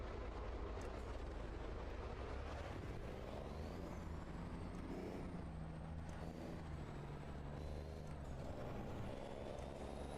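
A heavy truck engine in a modded truck-driving video game drones steadily throughout, with rising and falling revs and a hiss of air brakes, loud and continuous.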